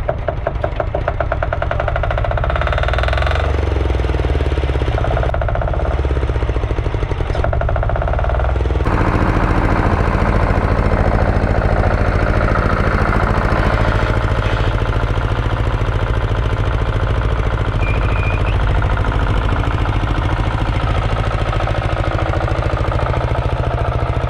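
A tractor engine runs steadily in a shop, a loud continuous mid-low chugging drone with rapid knocking pulses; it briefly falters in the first seconds, then settles into a fuller, even idle.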